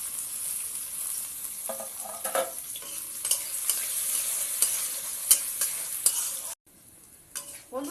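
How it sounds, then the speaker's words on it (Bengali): Chopped onions frying in a pan of oil with whole bay leaf, cardamom and cinnamon while a spoon stirs and scrapes them, giving a steady close sizzle with irregular clinking scrapes, then a brief pause before the stirring resumes. "আমার পেঁয়াজ ভাজা হয়ে গেছে"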